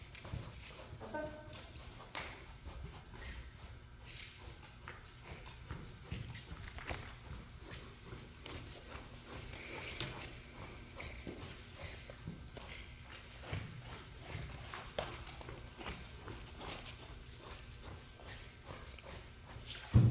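A fidgety horse shifts its hooves on the ground just behind, making scattered, irregular thuds and clip-clops at a moderate, fairly quiet level with no talking.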